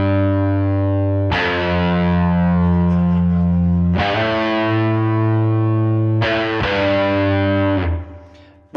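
Big, fuzzy distorted electric guitar riff on a Yamaha Revstar, sustained chords struck loud and alone with a few sharp restrikes, ringing out before cutting off at the end.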